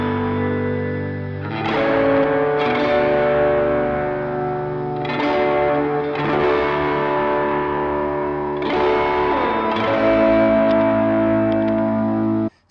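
Worship-style electric guitar drenched in reverb and delay, with compression and a little overdrive, rings out in loud, sustained washes of notes, with fresh strums or swells about every two seconds blurring into a continuous ambient pad, with no talking.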